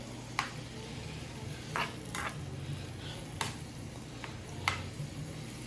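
Shrimp tossed in garlic butter in a pan, a steady low sizzle with occasional sharp clinks and scrapes as the pan is stirred and shaken.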